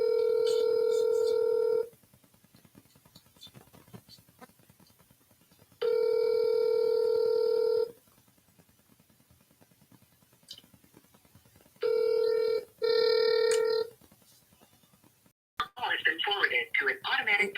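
Outgoing telephone call on a cold-calling line: three long steady ringback tones, each about two seconds, separated by quiet gaps, the last one broken into two shorter rings, then a brief burst of noisy sound at the end.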